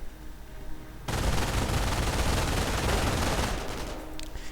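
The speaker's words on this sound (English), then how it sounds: "Machine gun bunker is up. Will the rifleman run straight into it? Yes, there we go. Getting suppressed." Sustained MG42 machine-gun fire from a bunker in the Company of Heroes video game, a dense, loud continuous burst of rapid shots that starts abruptly after a quieter opening and runs for several seconds with no talk.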